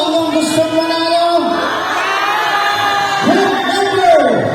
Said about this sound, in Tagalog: Pwede ba may sigaw nyo ang inyong gustong manalo?